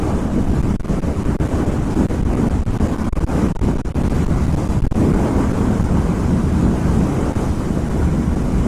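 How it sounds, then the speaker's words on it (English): Heavy, constant wind blast roars over the microphone of a rider on a Royal Enfield Interceptor 650 on a long highway ride from Chennai, a loud unbroken rush with no speech. "the wind blast is under control. It is there, but usually in open areas it's much more."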